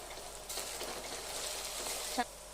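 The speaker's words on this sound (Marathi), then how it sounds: "त्यामध्ये टोमॅटो टाकला की छान परतून घ्यायचा" Tomato sizzles and fries as it is stirred in a pan for banana flower bhaji, a soft steady crackle with a light scrape of stirring, faint and close.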